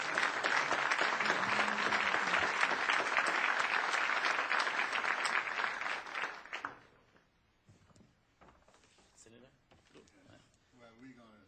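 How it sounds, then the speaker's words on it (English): Dense, loud applause fills a Las Vegas city council chamber for several seconds, then tapers off abruptly into quieter room noise and faint shuffling. "So let's give them a round of applause."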